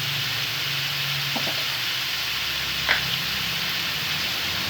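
Coconut-glazed pork ribs stir-frying in a pan with garlic and shallot, a steady broad sizzle running throughout, with a couple of faint clinks of a utensil against the pan.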